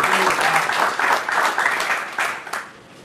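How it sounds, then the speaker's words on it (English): A room of attendees at a Skyline Crosstown Showdown press conference gives a brisk round of applause, a dense close patter of clapping that swells and then tapers off. "I'd love for everybody in the room who's in this event to give a round of applause for those people"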